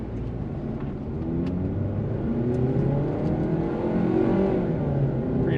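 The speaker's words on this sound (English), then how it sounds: "we'll go ahead and do a quick acceleration test anyway" A 2010-2013 second-generation Mazda3 with a 2-liter Skyactiv engine accelerating from inside the cabin, a steady rising engine drone with a low exhaust note that holds loud and even for several seconds, with no talking.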